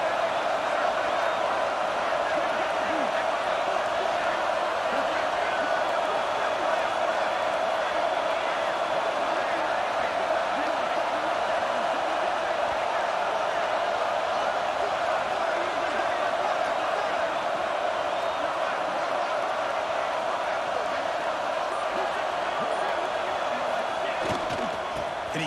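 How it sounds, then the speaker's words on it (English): Stadium crowd roar in the College Football 26 game during an LSU versus Clemson red zone defensive stand, a steady, loud, dense wash of cheering and noise that holds unbroken for the whole stretch. "And here comes the noise. This crowd is trying to inspire this defense to make a big red zone stop."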